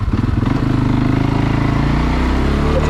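A 2022 CFMOTO CFORCE 600 ATV engine pulls hard in high gear on a trail ride, a loud, close, steady throbbing drone that rises slightly in pitch.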